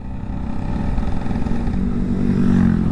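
Vespa scooter engine running steadily, a loud, close low rumble with a slight rise in pitch toward the end.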